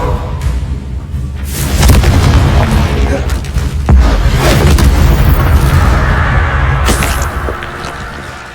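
Heavy booming blasts from the Confringo curse in the video game Hogwarts Legacy roll loud and close over a dense, chaotic battle din, with sharp cracks layered through the rumble.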